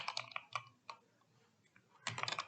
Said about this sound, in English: So I can type in a command.